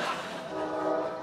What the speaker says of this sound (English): And here comes the train that he tried to make sure didn't continue to run.